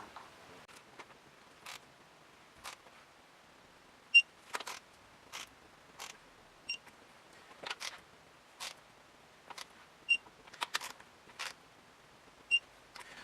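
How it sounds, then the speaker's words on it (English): Torque wrench tightening bolts on a Hemi engine during a rebuild in a garage, heard as sparse, sharp clicks spaced irregularly over several seconds, quiet and close against a near-silent background. "This torque wrench is kind of neat because it'll actually list what torque it ends up being"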